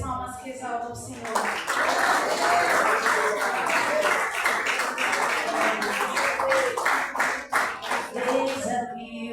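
A church congregation clapping in rhythm during worship, steady repeated claps filling the space under singing and voices throughout.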